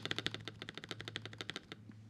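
Fast, steady typing on a computer keyboard with a repaired spacebar produces a close, quiet stream of crisp clicks over a faint low hum, then stops.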